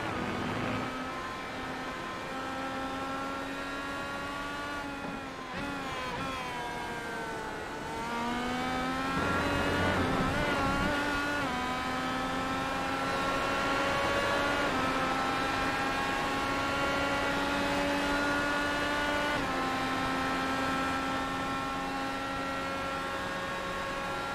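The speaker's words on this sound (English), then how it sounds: "let's have a listen in on these cars as he drives it around IndyCar for the final time this season" An IndyCar race car at Road America heard onboard, its engine droning loud and continuous as it revs up through the gears, dips for braking into corners and climbs again, with no talk over it.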